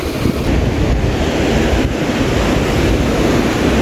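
Big ocean waves break and wash continuously onto a rocky shore at Agno's Umbrella Rock, a loud, steady roar of surf mixed with gusts of wind buffeting the microphone.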